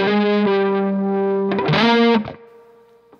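Distorted electric guitar lick with chorus-like effects, played mostly as one slide except the last hit. Sustained notes rise into a slid phrase, then a sharp final hit rings out and fades, loud and alone.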